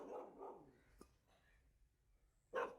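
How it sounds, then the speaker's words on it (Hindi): Pitbull dog barking at a mare outdoors, two quick deep barks at the start, then a pause with faint rustling and a sharp higher yelp near the end, fairly distant and quiet. "गब्बर देखे सावी नुकरी घोड़ी से पंगे ले रहा है दोस्तों, उसके ऊपर भौंक रहा है"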